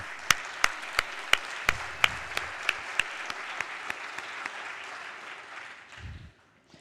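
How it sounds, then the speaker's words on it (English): Applause in a legislative chamber during a House floor session, opening with a few sharp, distinct claps that settle into a regular rhythm and gradually fade to quiet. "give them another round of applause"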